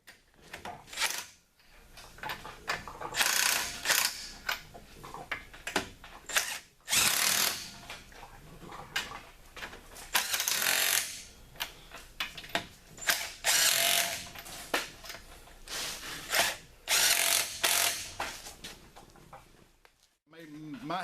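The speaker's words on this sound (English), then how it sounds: "She actually tightened up her lug nuts in a star pattern." Power tool driving car wheel lug nuts tight in a star pattern during a tire rotation, loud bursts of whirring and buzzing repeated in short runs with pauses, close up, with a person talking between bursts.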